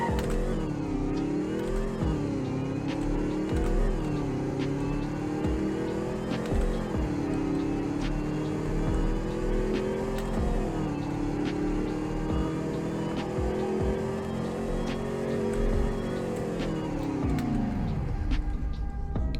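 A car in Roblox Greenville accelerates during a speed test, its engine droning steadily with rising and dipping pitch as it climbs through gears, loud and continuous before winding down at the end.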